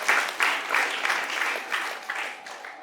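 An audience at a motivational talk applauds to welcome a guest innovator to the dais, a full, close burst of clapping that surges in waves and eases slightly toward the end.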